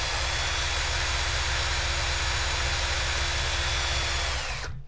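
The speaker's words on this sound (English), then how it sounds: "fire up this motor with the drill and see what kind of values we're measuring" A power drill spinning a brushed motor to test its output, giving a steady, loud, high-pitched whine that holds for several seconds before cutting off abruptly, with no talk.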